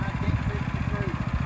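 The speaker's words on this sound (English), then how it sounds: "It's a tractor, a David Bradley garden tractor." A 1953 David Bradley garden tractor engine runs at an old machinery show, giving a steady, close, low chugging idle with even rapid pulses throughout.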